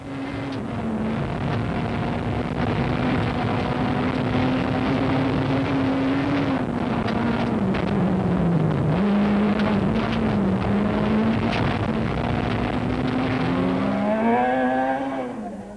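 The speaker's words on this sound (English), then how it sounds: "Keen was trying as hard as he possibly could as he throws the car through the corners" A rally car is driven flat out through the corners of a gravel stage, its engine loud and close, revving high and dropping between gears as it's thrown through bends, with no voices.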